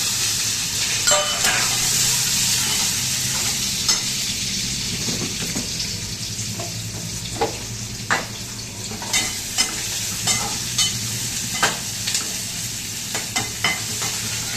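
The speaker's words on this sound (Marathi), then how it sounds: "बघा तेल टाकून घेते थोडं, कांदा टाकते." Onion frying in hot oil, stirred with a utensil: a steady sizzle runs throughout while short scraping and tapping strokes recur every second or so, close by and without talk.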